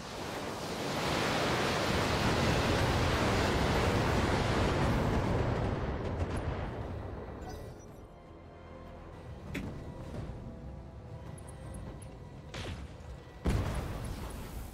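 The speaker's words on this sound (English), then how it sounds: "Firing all weapons." A battle mech unleashes every weapon at once in a video game, a loud roaring barrage of blasts and rumbling explosions for about seven seconds, then fading to scattered bursts and a sharp late impact.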